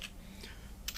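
A computer keyboard's backspace key is pressed while editing props, giving a couple of faint, close plastic key clicks near the end of a quiet second.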